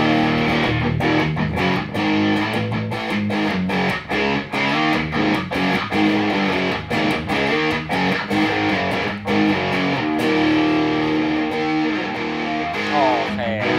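Electric guitar played through a Red distortion stompbox, a stream of loud, thick distorted chords and riffs with sharp picked attacks, continuous and close throughout.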